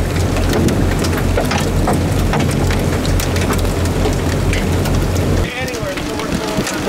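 Dense, heavy pelting of hail on surfaces during a tornado-producing storm, loud and constant, with a rumbling low end that drops away near the end.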